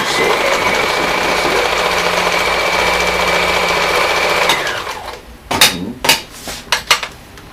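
A sewing machine runs a cover stitch in a loud, steady whir for about four seconds, then stops and gives way to a few sharp clicks and knocks.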